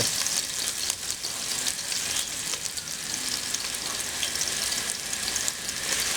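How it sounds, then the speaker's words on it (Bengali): Chopped onion frying in hot oil makes a dense, even crackling sizzle with light spatters throughout, close and steady with no talk. "প্রথমে গরম তেলে আমরা পেঁয়াজ কেটে দিয়ে দেবো"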